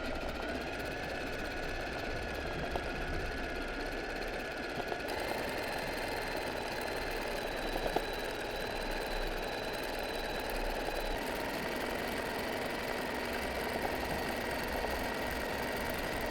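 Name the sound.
sewing machine doing freehand zigzag embroidery stitching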